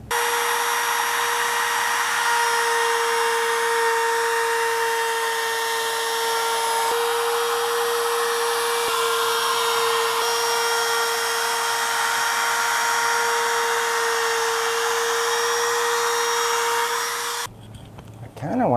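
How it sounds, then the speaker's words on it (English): A power tool cuts a chamfer along the edge of a solid Alaskan birch countertop in a tiny house kitchen. A loud, steady whining drone continues almost unbroken for about seventeen seconds, then cuts off near the end. "chamfer all the way around just to clean it up"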